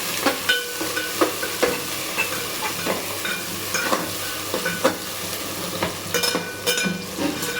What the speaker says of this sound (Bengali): পেঁয়াজটা ততক্ষণে ভাজা হোক